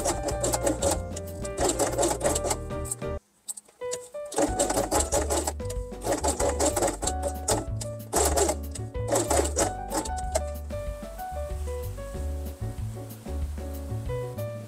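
A sewing machine stitches the hook side of a strip of Velcro onto felt in loud, close runs of rapid whirring, broken by a brief pause early on, then continuing with a few shorter bursts.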